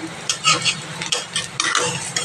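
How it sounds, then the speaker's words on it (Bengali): Fritters frying in hot oil in a pan, heard close as bursts of crackling sizzle and bubbling that rise and fall in uneven waves, with light stirring and utensil scrapes and no talk. "এই যে অ্যালেংচার বড়াটা হচ্ছে কয়েকটা ভাজাও হয়ে গেছে"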